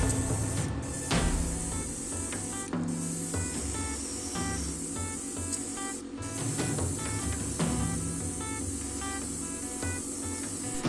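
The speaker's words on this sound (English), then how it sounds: "With airbrush I apply in all the model the black primer." Airbrush spraying black primer over tabletop miniatures, a steady continuous hiss that runs throughout with brief pauses, close and fairly quiet.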